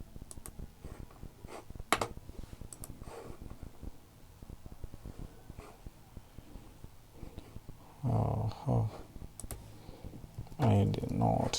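Faint computer mouse clicks and keyboard typing during a school registration setup, soft scattered taps and clicks at close range, with short louder bursts of voice-like sound near the end.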